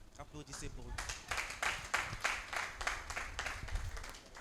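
Audience at a vocal coaching final and diploma ceremony breaks into applause, a few seconds of bright, irregular clapping from a crowd that rises and then holds steady.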